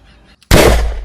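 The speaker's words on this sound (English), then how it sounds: "You cannot be shooting with toy gun like this." A single sharp, loud bang from a toy gun right after a faint quiet moment, with a brief bright burst that rings out and decays quickly within a second.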